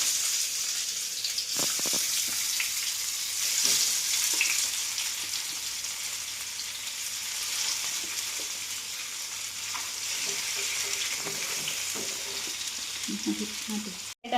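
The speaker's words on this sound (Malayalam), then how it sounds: "എണ്ണ ഒഴിച്ച് കറിവേപ്പില ഇട്ട് മീൻ വറുത്തെടുക്കാം" Avoli pomfret fish frying in oil with curry leaves, a continuous bright sizzle and crackle from the pan with occasional clinks and stirring.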